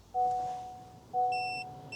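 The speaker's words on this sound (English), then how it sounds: "You hear a beep, 1 beep, off." Car chimes short electronic beeps during key programming: two brief tonal beeps about a second apart, the second followed by a higher chime, fairly quiet in a still interior.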